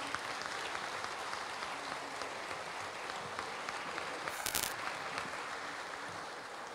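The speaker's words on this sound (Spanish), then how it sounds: "Los despedimos con otro fuerte aplauso." A large crowd applauding steadily and loudly throughout, a dense continuous wash of clapping with a brief brighter burst near the end.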